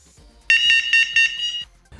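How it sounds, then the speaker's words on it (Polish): A Crystal carp fishing bite alarm set sounds its anti-theft alarm: a loud, high electronic tone pulsing in quick beeps for about a second, close and alone. "jak i centralka wydają głośny dźwięk alarmowy."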